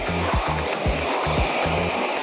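A backpack vacuum cleaner runs steadily with a loud broadband whoosh, while regular low thuds and scraping knocks repeat about every half second as the floor is cleaned.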